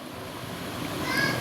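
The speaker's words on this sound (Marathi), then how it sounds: "ते आता स्वच्छ पाण्याने धुवून घेतो आहे" Water sloshes and swishes steadily as jackfruit pieces are rinsed by hand, a continuous close wet rustle that grows slightly louder toward the end.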